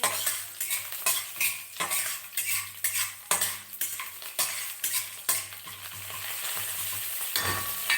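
Tempering sizzles in a pan for a beans and coconut curry, with continuous frying crackle broken by rhythmic scrapes and clinks of a metal spoon stirring against the pan. No one speaks.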